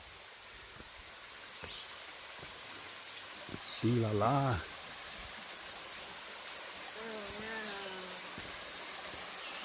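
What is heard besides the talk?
creek water flowing over trail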